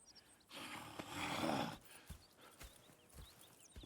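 Horse sounds in the video game Red Dead Redemption 2: a breathy snort or whinny swells, then hooves clop in a slow, irregular rhythm, fairly quiet with faint high chirps behind.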